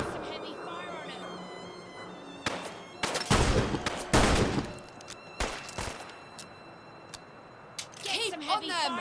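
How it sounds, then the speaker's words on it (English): Heavy gunfire in the video game Fallout London: dense bursts of loud, sharp automatic shots in clustered volleys, broken by brief pauses, with a voice speaking at the start and end. "Get some heavy fire on him."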